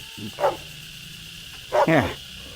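A dog barks twice, first one short bark and then a louder, longer double bark just over a second later, close by against a quiet background.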